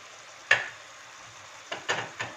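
Thin slices of swordfish cook in a pan, giving a soft continuous sizzle broken by a sharp stir or scrape and then a quick cluster of three more scraping touches.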